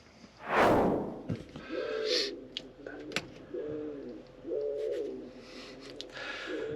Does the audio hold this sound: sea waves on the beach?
no